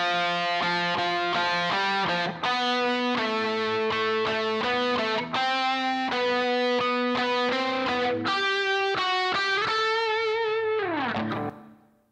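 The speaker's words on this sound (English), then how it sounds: "Let's see what this reverb sounds like." Sustained melodic notes ring out through a lush room reverb effect, each tone blending into the next, ending in a decaying reverberant tail.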